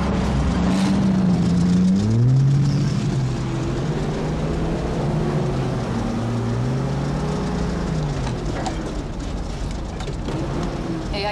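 A tour bus engine labors and rises in pitch as it accelerates, a loud, steady rumble with rolling noise that climbs in stepped surges across the whole stretch.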